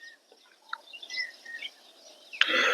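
Birds chirp in short, scattered tweets, faint and somewhat distant, ending in a brief louder burst of noise.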